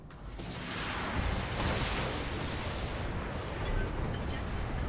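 Missiles explode in the BattleTech video game, giving a sustained, rumbling broadband roar of blasts and debris at moderate loudness with no voices.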